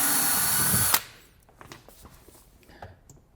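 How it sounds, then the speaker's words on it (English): A power tool whirs steadily for about a second while removing screws from a Rocket Bicocca espresso machine, then stops abruptly, leaving faint handling clicks and light taps in a quiet room. "you will need typically a Phillips head screwdriver or a power tool to get this off"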